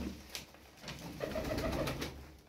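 Pigeons kept as fancy play birds coo softly in a loft, several low repeated coos overlapping over a quiet background, with faint rustling and a few light taps.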